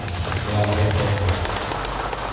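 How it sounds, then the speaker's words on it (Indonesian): Crowd applause at a village officials' inauguration ceremony, with scattered clapping filling the clip, steady and moderately loud, with a low rumble of voices underneath. "Tepuk tangan buat Pak Saman."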